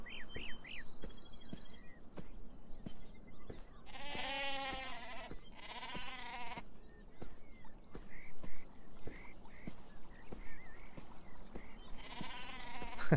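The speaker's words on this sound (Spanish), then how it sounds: "¡Ovejas!" Sheep in the video game Beyond Eyes bleat several times in drawn-out calls, two close together early and another near the end, over twittering birds and a quiet outdoor bed.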